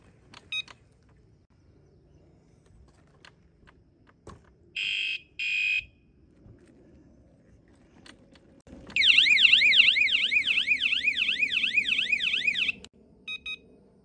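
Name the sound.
120 dB e-bike anti-theft alarm sounding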